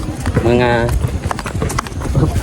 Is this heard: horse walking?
yes